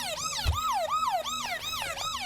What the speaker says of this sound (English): That's even a different alarm than the last ambulance.